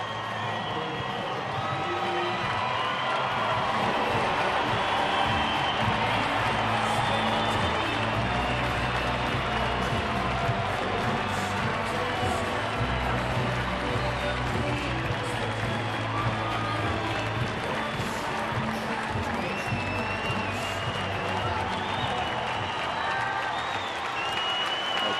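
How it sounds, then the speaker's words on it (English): Large baseball stadium crowd in Colorado roars and applauds as a batter is announced, a sustained dense wall of cheering and clapping holding steady for the whole stretch, with faint voices under it. "let's listen to the crowd as he's announced"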